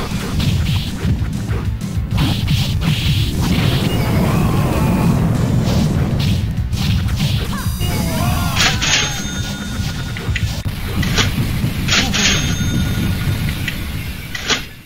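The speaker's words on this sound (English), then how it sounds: "Now that's an explosion." Explosion effects from the X-Men arcade beat-'em-up played in MAME: loud, continuous crashing and booming game audio, with sharp metallic bursts and chimes in the later seconds and no voices.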